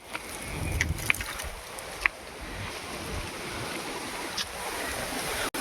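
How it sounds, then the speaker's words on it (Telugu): Strong stormy wind blowing across a hilltop in the evening, a steady rushing roar with low buffeting rumbles and a few faint knocks. "గాలి మాత్రం తుఫాన్ ఉన్నట్టుంది గా."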